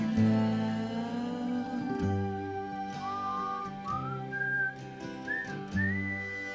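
A melodic whistled line closes out a song, sounding clearly over sustained backing chords as the track fades.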